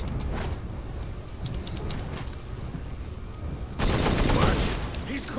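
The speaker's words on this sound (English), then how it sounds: "I'll just shoot only the guy with the baton." Gunfire in Batman Arkham Knight, Red Hood story pack: scattered light shots followed by a loud sustained burst of rapid fire near the end.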